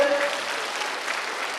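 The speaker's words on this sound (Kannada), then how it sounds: "ಸೊ ಅದಕ್ಕೊಂದು ಚಪ್ಪಾಳೆ ತಟ್ಟಬೇಕಲ್ಲ ನಾವೆಲ್ಲರೂ." An audience at a pollution control board golden jubilee event in Davangere claps together, a dense, steady burst of applause lasting under two seconds.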